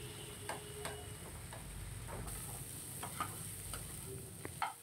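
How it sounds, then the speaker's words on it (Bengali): Pumpkin leaves frying with prawns in a pan, a quiet, steady sizzle broken by scattered light ticks and scrapes of stirring, with no talking. "এবার কুমড়ো পাতাটাকে একটু ভাজা ভাজা করে নেব।"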